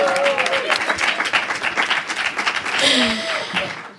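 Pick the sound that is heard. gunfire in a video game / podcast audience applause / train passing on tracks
podcast audience applause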